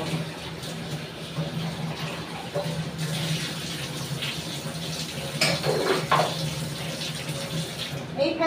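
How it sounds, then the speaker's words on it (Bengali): Water poured into a pan of cooking fish, a steady splashing pour running throughout at close range, with brief clinks of utensils and faint background noise. "আর জল দেবো।"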